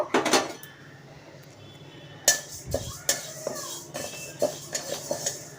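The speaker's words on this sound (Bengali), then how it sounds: "মুগ ডালটা দিয়ে আমি ভালো করে একটু ভেজে নেব" Moong dal is fried in a kadai, with a spatula scraping and knocking against the metal in irregular clinks, quieter at first and then busier and more frequent.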